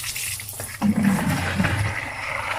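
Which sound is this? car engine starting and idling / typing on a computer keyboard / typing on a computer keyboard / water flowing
water flowing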